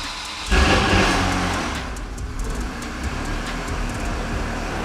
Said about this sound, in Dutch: Snel tijd om de Ferrari te starten.